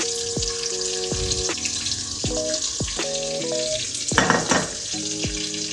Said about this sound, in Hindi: अब बिल्कुल हो गया प्याज पिंक हल्के